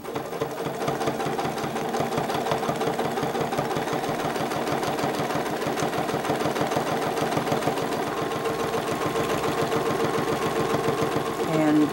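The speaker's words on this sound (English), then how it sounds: "Now I'm again stitching in the ditch around some of these pieces." A sewing machine stitching in the ditch through quilt top, batting and backing, a loud continuous rapid mechanical chatter running steadily throughout at close range, with a person talking over it.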